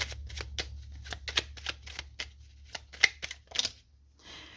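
Oracle cards being shuffled, a series of crisp riffling and slapping bursts at a steady rhythm, close and fairly quiet, with no talking.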